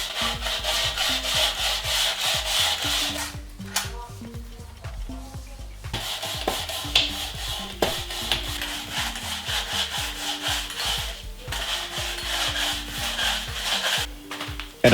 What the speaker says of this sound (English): I take a grid with an abrasive. I level with light movements.